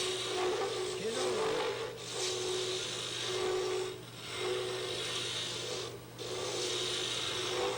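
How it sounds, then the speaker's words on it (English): Continuous scraping and rasping of a round chisel against a wooden spindle spinning on a lathe, long rough strokes with brief pauses between passes. "Then you make the spindle itself by taking your round chisel."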